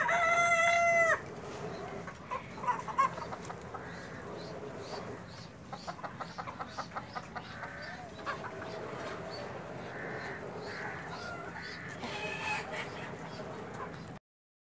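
Desi chickens on a farm in Karachi: a rooster crows loudly at the start, followed by repeated clucking and scattered fowl calls at moderate distance, with faint voices in the background.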